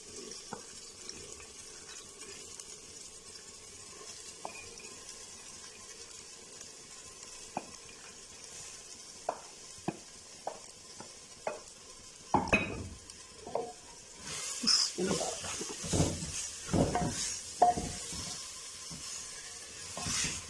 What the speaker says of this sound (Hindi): अच्छी तरह दाल को हम जो है मसाले के साथ तकरीबन 5-10 मिनट के लिए जो है भून लेंगे।